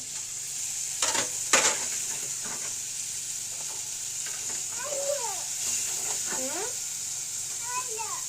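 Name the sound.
curry frying and sizzling in a pan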